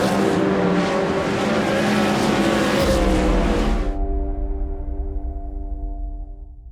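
Dirt track race cars roar together in a loud, dense engine blare for a few seconds. The noise then drops away abruptly to a thinner, fading engine drone.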